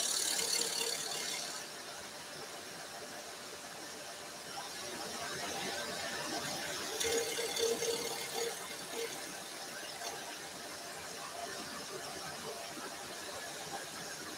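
A scroll saw cuts a small wooden nativity piece on the saw table with dust extraction nearby. It gives a steady, close buzzing rasp that holds for the whole stretch, with slight squeals and shifts in tone as the blade works.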